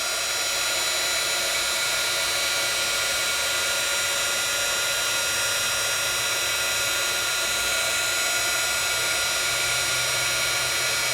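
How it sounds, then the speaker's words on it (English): A heat tool, hotter than a hair dryer, runs steadily as it melts embossing powder on dark paper: a loud, continuous blowing whir with a high fan whine, unbroken from start to finish with no voices. "So let's take it and let's add our heat tool."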